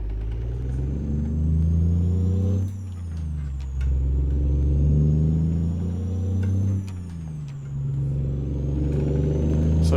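Peterbilt 379/389 truck engine in a trucking game, driving through downtown Laramie: a steady, loud diesel drone that dips and swells as it shifts gears, with a brief air hiss, no voices.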